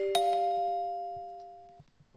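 Synthesized bell melody notes from two layered bell sounds in FL Studio 21.2: a bright struck attack rings into a long, steady sustained tone that fades away, then a fresh strike hits at the end, clean and alone.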